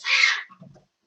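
A cat gives one short meow that fades within a second, close and alone against silence.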